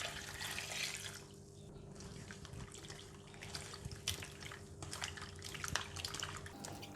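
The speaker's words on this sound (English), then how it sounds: "And then we're going to rinse it with water." Tap water runs and splashes steadily over bitter gourd being rinsed, with small bursts of spattering and dripping, fairly quiet and close.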